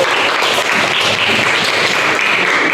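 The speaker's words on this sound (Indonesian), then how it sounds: "Mohon untuk kasih aplaus untuk nomor peserta kelompok 3." A classroom of students applauds a presenting group, a loud, continuous and fairly uniform burst of clapping with no speech over it.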